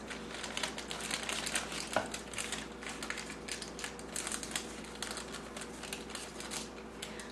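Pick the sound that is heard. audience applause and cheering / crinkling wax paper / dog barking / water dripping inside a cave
crinkling wax paper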